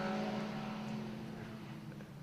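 Race cars working through a curve at Brands Hatch GP, a steady droning engine note under a broad wash of noise, with no one speaking over it.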